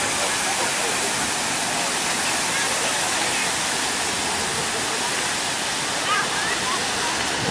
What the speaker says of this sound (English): Famous downtown Buckingham water fountain